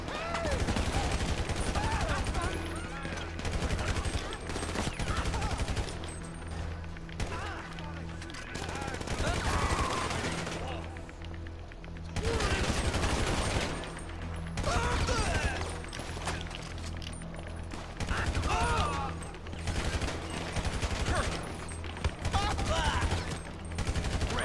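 Gunfire from armed zombies in a modded GTA video game mission on PS4, rapid sustained volleys in repeated waves with short lulls, loud and continuous, with a voice talking at times.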